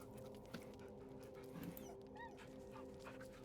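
Dog from Baldur's Gate 3 whimpering softly while being petted, a few faint whines and yips over a steady game background hum.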